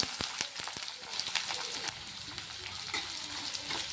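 Curry leaves and onion frying in hot oil in a pan for a dry ghevda bean bhaji open with a few sharp pops and crackles, then settle into a steady close sizzle.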